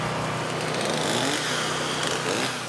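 Chainsaws and generators run during a storm relief effort the morning after a storm surge and strong winds: a steady, dense mechanical engine drone, continuous and fairly loud, with no speech.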